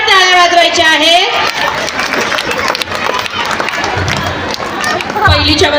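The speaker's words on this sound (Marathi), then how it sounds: "सर्व विद्यार्थ्यांसाठी सर्वांनी जोरदार टाळ्या वाजवायच्या आहेत" An audience at a school annual cultural gathering breaks into a long, dense round of applause and cheering, with voices and a singing voice at the beginning and end.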